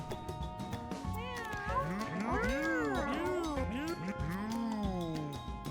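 Cats meowing in the video game Mewgenics: a steady run of overlapping, rising-and-falling meows, loud and close, over game music, with a voice talking faintly underneath.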